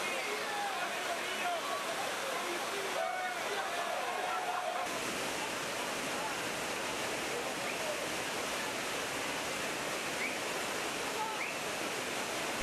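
A waterfall at Ocho Rios, Jamaica, pours as a constant, even rushing roar that fills the whole stretch, with faint talk drifting over it in places.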